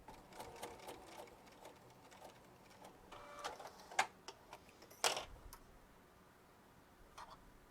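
A sewing machine stitches a line on a purse, running in short bursts of rapid mechanical ticking with a few sharper clicks, close and fairly quiet with no voices.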